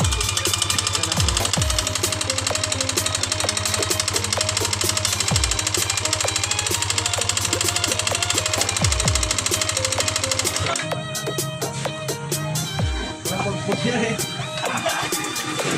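An engine that ran out of oil and died runs loud and rough with a steady rapid knocking clatter, a few sharp bumps breaking the rhythm and the tone thinning in the last few seconds.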